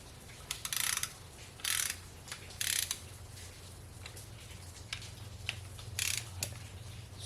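A torque wrench set to 18 foot-pounds clicks as it tightens bolts in a star pattern during an LS 5.3 short block assembly. Several separate sharp ratcheting clicks come at uneven intervals over a low steady hum, with no talking.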